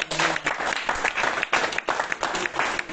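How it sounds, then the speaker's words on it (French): A church congregation applauds and cheers for the Lord at a revival weekend service, giving a loud, continuous burst of clapping with rhythmic pulses and crowd voices mixed in. "Est-ce que quelqu'un peut acclamer le Seigneur?"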